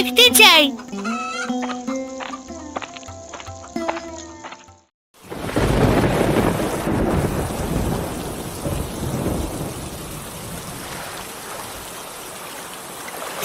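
An animated cartoon thunderstorm breaks in a loud, close wash of rain and rumbling thunder that lasts about eight seconds. Before it, a short burst of tonal, clucking cartoon sounds plays.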